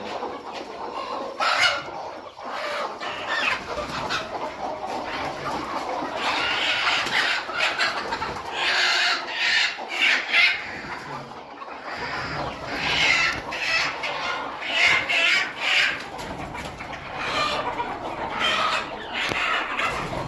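Many hens and chicks clucking and squawking together during vaccination, a busy, continuous flock chorus close by, with occasional louder calls rising over the clamor.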